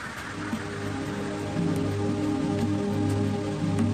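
Steady, dense rain falls over a tropical Thai rainforest, a constant close hiss of drops on leaves with a low rumbling bed beneath and no voices.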